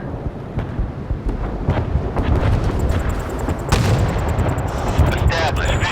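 Naval guns fire in the Force of Warships video game, a dense, loud rumble of booms and blasts that runs without a break and builds toward sharper explosions near the end.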